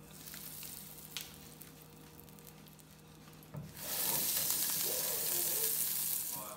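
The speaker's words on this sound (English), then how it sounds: "In a hot pan, go ahead and add your half stick of butter" Half a stick of butter melting in a hot pan, a faint soft sizzle at first that swells abruptly into a louder, steady hiss and crackle partway through.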